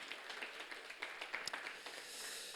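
A church high school congregation applauding together in thanks during a Sunday worship service, a faint, steady patter of many hands clapping at a distance.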